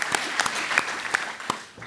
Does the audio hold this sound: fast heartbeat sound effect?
no